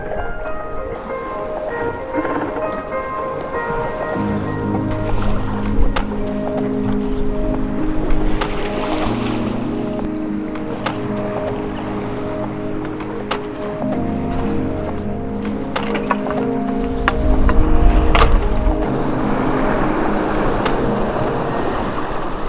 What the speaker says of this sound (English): I get a lot of waves, sometimes big waves coming